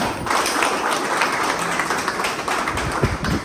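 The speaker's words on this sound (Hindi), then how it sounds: "इनके सम्मान में जोरदार तालियां बजनी चाहिए।" Loud, dense applause from a large audience at a Jeevandan group training camp in Amgaon, Maharashtra, a continuous wash of many hands clapping together for the whole stretch.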